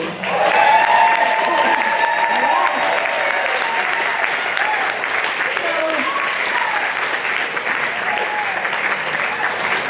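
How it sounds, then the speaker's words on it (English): A crowd at the 2024 West Seattle Food Bank gala applauds the local coffee shop named that year's winner. Sustained, full clapping runs throughout while voices carry on over it. "They deserve lots and lots of applause."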